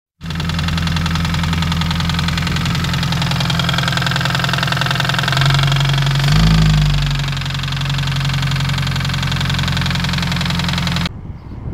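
A supercharged R53 Mini Cooper S engine runs close by with a heavy, steady mechanical knocking under a loud, constant drone that swells briefly midway, with no talking.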